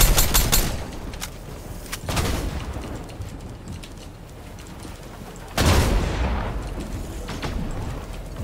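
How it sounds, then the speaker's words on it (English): Video game gunfire crackles in rapid bursts: a loud volley at the start, a short burst near two seconds, then another heavy barrage midway, with quieter shots scattered between. "Shooting this guy."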